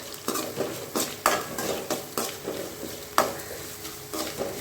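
Moringa flower poriyal stirred and sautéing in a pan with pink salt, a spatula scraping and tapping the pan in a steady rhythm of sharp clinks over a low sizzle, close and moderately loud.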